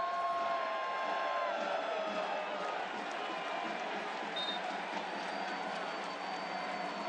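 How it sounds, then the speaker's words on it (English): A stadium crowd roars and cheers continuously at a Tampa Bay Rowdies versus Miami FC soccer match, a broad sustained wash of noise with a whistle-like tone early on and a commentator talking over it. "Crowd came unhinged."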